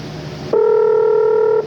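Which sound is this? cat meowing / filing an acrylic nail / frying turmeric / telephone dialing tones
telephone dialing tones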